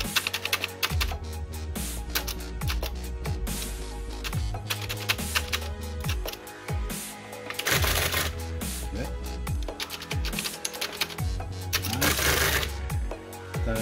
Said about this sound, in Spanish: Esta es la impresora que os digo